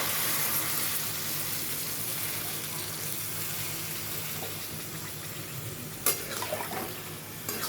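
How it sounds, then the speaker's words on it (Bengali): Water poured into sautéed vegetables, including bitter gourd, in a pan while cooking shukto, a steady broadband hiss and sizzle held throughout at moderate volume, with a brief clatter near the end. "এখানে আমি জল দিয়ে দিচ্ছি।"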